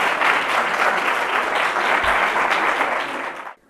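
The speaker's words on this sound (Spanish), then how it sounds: "Pues un aplauso nada. Muy fuerte." An audience at an award gala for a nativity scene and Christmas tree contest applauds in a steady, dense wash of clapping that holds at full strength for several seconds and then stops abruptly.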